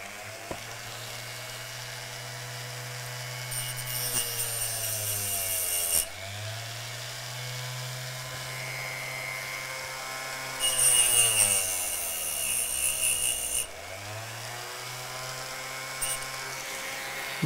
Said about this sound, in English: So if I come in there like that at an angle and grind it away.